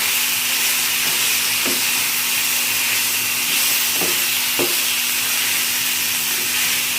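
Chicken frying with masala for paper chicken gives a steady, soft sizzle and hiss in the pan, with a few faint knocks of stirring.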